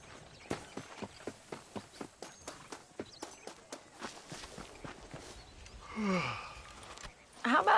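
Horse hooves clip-clop in the Red Dead Redemption video game, a steady run of evenly spaced, close knocks that fades out before voices come in at the end.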